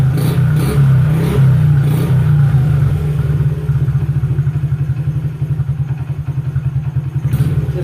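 Honda CRF50F dirt bike engine idling without the choke after a carburetor cleaning, a steady low putter with fast regular pulses, close and loud, settling into an even idle rhythm.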